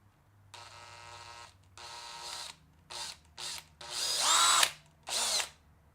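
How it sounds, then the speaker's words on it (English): A cordless power drill whirs in short bursts while boring into chrome-finished material, with several separate on-off runs of rising and falling motor pitch, the last ones loudest and closest. "I can't see where I'm drilling"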